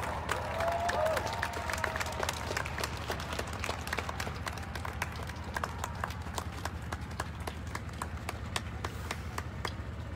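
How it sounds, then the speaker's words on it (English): Sustained applause and clapping from a large outdoor protest crowd in Denver's Civic Center Park, dense and steady throughout with sharp individual claps standing out. "can we give one more round of applause for these amazing people"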